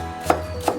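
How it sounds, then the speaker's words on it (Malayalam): Two crisp knife strokes sound as an onion is finely chopped on a board, evenly spaced and close, with no voices. "സവാള ചെറുതായിട്ട് അരിഞ്ഞെടുക്കാം."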